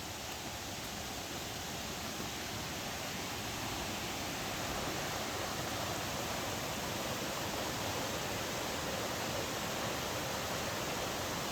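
Creek water along the Roaring Fork Motor Nature Trail near Gatlinburg, Tennessee, rushes in a soft, even broadband hiss, distant and steady throughout with no voices.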